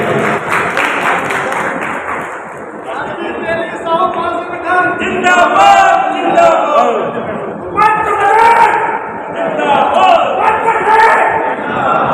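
Applause from the audience at a national Teli Sahu community conference in Delhi, a sustained spread of clapping mixed with raised voices and cheering from a large hall crowd.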